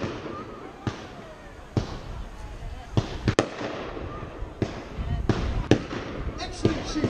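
Staged sea battle explosions at a Bridlington seafront show as planes bomb a submarine, a series of sharp booms spaced a second or so apart over a constant crowd-like rumble, with voices murmuring underneath.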